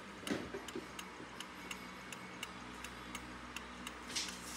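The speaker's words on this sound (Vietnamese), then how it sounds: "các bác có thể nghe thấy tiếng ngựa nó tích tắc này" A mechanical clock shaped like a horse ticks in a steady, regular rhythm, each tick crisp and close, with a faint fan whirring underneath and no talking.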